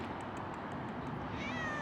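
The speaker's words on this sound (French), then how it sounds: "Bébé chat sur la voiture." A kitten perched on a parked car meows in a rising, thin cry near the end, faint against steady outdoor background noise, with no talk.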